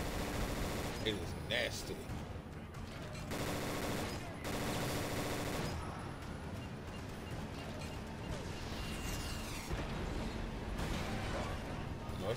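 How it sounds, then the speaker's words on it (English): Sustained machine gun fire in the action game Prototype 2 Remastered rattles loud and dense in long bursts with short gaps, while a voice briefly talks over it. "Love this machine gun, bro."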